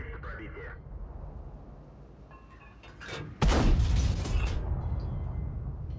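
A tank gun fires blind in World of Tanks from an SU-100M1 tank destroyer, a sudden heavy boom with a rumbling tail, preceded by quieter game ambience and faint radio-like chatter.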